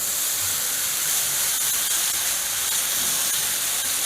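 Sprouts dosa batter sizzling on an oiled hot pan, a steady bright hiss running unbroken throughout, close and even in loudness, with no talk over it.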